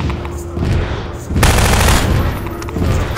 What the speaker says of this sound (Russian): Слышите стрельбу?